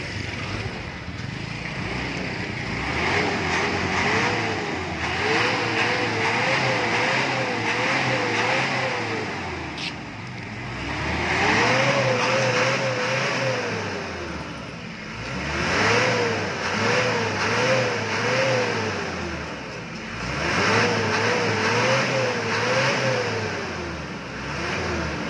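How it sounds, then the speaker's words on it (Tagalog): A police motorcycle fitted with an aftermarket exhaust and Aero metal guard revs repeatedly, rising and falling in loud near bursts with brief dips between pulls. "So ngayon ay mag-rev lang po tayo."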